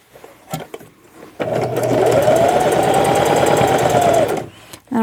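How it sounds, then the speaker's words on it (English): A sewing machine stitching denim on a denim jumper runs in one loud, steady whirring burst for about three seconds, preceded by faint handling noises and stopping abruptly near the end. "I'm just going to sew back up the other side"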